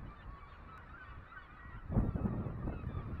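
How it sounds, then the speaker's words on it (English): Seabirds, mostly gulls, call at a puffin colony by Bonavista Lighthouse, a steady wash of squawks that turns louder and denser partway through, heard outdoors with no talking. "Those are mostly seagulls,"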